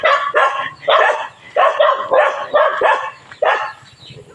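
A dog barks loudly and repeatedly up close, in a rapid string of sharp, agitated yaps with brief pauses between bursts.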